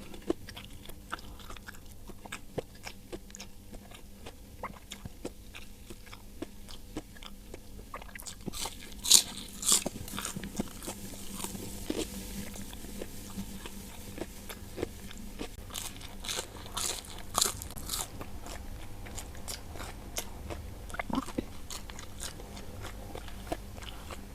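Crispy Indonesian fried snacks (gorengan) crunched and chewed up close in a mukbang, with repeated sharp crunchy bites and softer chewing clicks over a quiet background and no talking.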